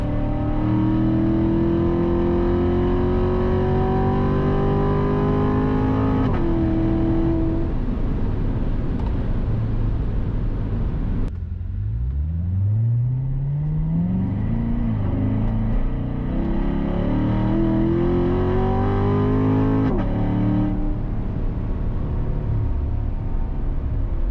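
A C7 Corvette's V8 engine revs hard during a test drive, loud and steady, climbing through the gears with a sharp dip and a shift before building again. No one speaks.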